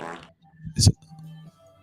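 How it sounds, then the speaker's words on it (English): A person's fart, one short loud burst near the middle, with faint voices and a steady low tone around it. "He farted."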